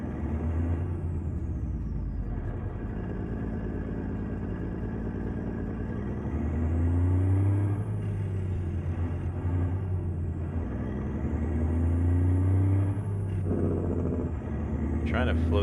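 Low diesel rumble of a log-laden truck in American Truck Simulator, steady and close under braking, with someone talking over the engine throughout.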